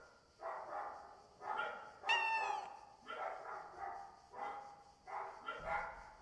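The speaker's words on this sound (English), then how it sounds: "Dogs barking." Several dogs bark at night outside a house in a steady run of paired barks, moderately distant and repeated about every second, with one sharp yelp in the middle.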